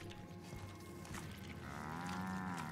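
Cow lowing in the video game The Outer Worlds, a faint drawn-out moo rising near the end over quiet ambient hum and mechanical clicks.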